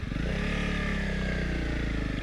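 Honda CRF300L Rally motorcycle riding steadily along a slippery chalk lane, a close, continuous engine thrum with a low, even beat and no talking.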